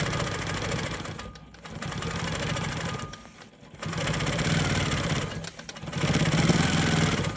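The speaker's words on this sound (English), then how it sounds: "I'm going to quilt in the ditch of this sashing to the best of my ability" A Janome sewing machine quilting in the ditch along sashing runs in bursts of fast, steady mechanical stitching, pausing briefly between runs, close up and with no talk.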